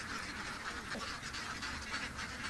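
Ducks at a duck farm quack in a steady overlapping chorus, faint and somewhat distant, with scattered calls over a dense background of many birds.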